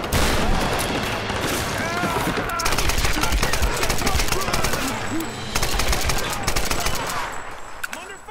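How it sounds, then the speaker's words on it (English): Rapid gunfire from the Tomb Raider video game, with dense automatic bursts and shots sounding loud and close almost without pause for the whole stretch, under a continuous busy game mix. "An intruder shooting from the side."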